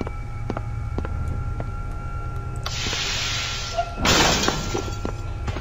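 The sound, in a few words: SCP creature breaking glass in SCP Containment Breach video game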